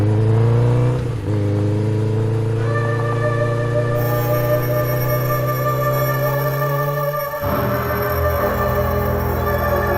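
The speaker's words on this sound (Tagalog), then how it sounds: "Padasigan ko pagkitag tricycle ko" Motor tricycle engine revving hard and climbing in pitch as it speeds up, loud and close, with a sudden shift near the middle and a drop late on before it pulls again.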